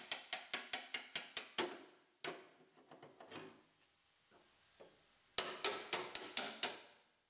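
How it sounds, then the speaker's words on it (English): Two bursts of sharp metallic hammer strikes, about eight quick blows each, driving a pry bar into a spot weld on a Honda CR-V B pillar, separated by a quieter stretch of scraping and clinking. "Now we can hammer our pry bar in here, spot weld breaker."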